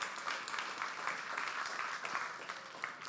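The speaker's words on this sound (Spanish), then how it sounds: "Dale un aplauso, Señor" A church congregation applauds during a Spanish-language worship service, a steady wash of many hands clapping at moderate distance, fairly quiet and continuous for a few seconds.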